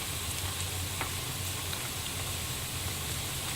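Sambal sizzles steadily in a pan with softened onion, a continuous close frying hiss with faint crackles and stirring, no voices.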